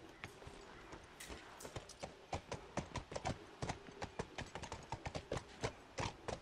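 Horse hooves clip-clopping at a steady walking rhythm in The Last of Us, close and fairly distinct, with occasional faint voice underneath.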